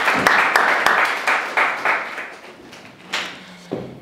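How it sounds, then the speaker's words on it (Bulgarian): Audience applause welcoming a guest named Leo at a meeting in a specialized school for hearing-impaired students; clapping sounds close and fairly loud with sharp individual claps at first, thinning and fading over about four seconds with a few stray claps at the end. "Лео, посрещаме те с аплодисменти"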